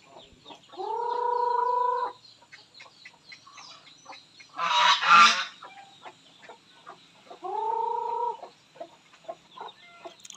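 Two honking calls from geese on a farm sound a few seconds apart, with a burst of squawking between them and faint chicken clucking in the background.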